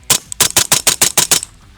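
Rapid fire from a short-barreled 416 SBR rifle with a 10.4-inch barrel shooting 5.56, about eight sharp loud reports in quick succession, close up and with no talking.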